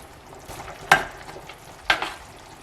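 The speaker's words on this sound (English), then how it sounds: "So we'll just let that simmer gently." Puttanesca sauce simmers gently in a pan as a soft, low bubbling hiss. Two brief, sharper scraping stirs stand out about a second apart.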